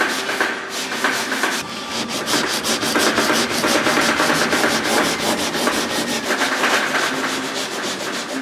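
Sanding block rubbing across a car body panel up to a masking tape line during paint prep, steady rapid back-and-forth scrubbing strokes, close and continuous with no talk.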